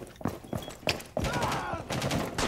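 Rapid gunfire punches through a wall in the tactical shooter Rainbow Six Siege, a string of sharp close shots followed by a dense burst of automatic fire, loud and uneven in rhythm.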